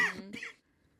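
Two quick, harsh coughs close to the microphone, the second slightly rougher, followed by quiet.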